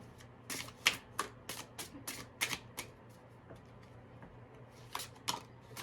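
Tarot cards shuffled by hand, a run of crisp, close riffling flicks and snaps in uneven bursts, quiet and alone with no talking.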